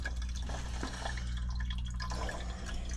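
Water draining from an HVAC unit, a steady continuous trickle and splash of liquid with faint dripping, close and fairly even throughout.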